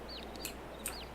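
Chickens cluck in Farming Simulator 22 as a few soft, downward-sliding calls and clicks sound over a faint, steady hum in a quiet game ambience. No talk is heard.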